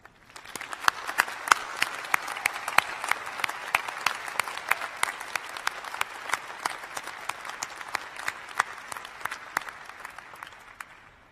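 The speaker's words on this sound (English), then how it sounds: "Please, everyone, join me in a round of applause for our graduates." University convocation audience applauding graduates, a moderate round of clapping heard from a distance, with a steady patter of individual claps rising and falling over about eleven seconds.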